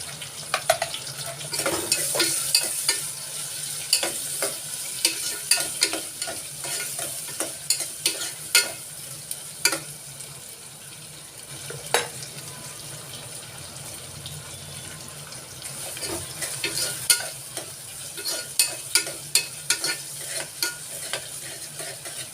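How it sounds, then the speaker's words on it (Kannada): Chopped onion fries in a pan for avarekalu bath without curry leaves or mustard seeds, a soft steady sizzle broken by frequent scraping clicks of a spoon stirring against the pan, close by and without speech. "ಈರುಳ್ಳಿಯನ್ನು ಹೆಚ್ಚಿಟ್ಕೊಂಡಿದ್ದನ್ನು ಸೇರಿಸ್ಕೊಳ್ತಾ ಇದ್ದೀನಿ"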